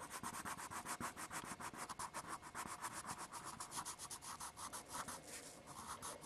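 Colored pencil sketching on paper, a close rhythmic scratching of quick back-and-forth strokes repeating steadily with no voices.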